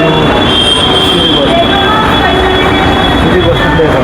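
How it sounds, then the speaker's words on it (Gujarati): A train pulls into a station in Vadodara, running late. It gives a loud, continuous rumble with sharp wheel squeal and rail screech close by, steady throughout. "અત્યારે આવ્યો છે અને ટ્રેન થોડીક લેટ થઈ છે"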